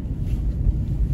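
Heavy, rumbling wind buffeting the microphone in continuous low gusts, loud and close, with no voices.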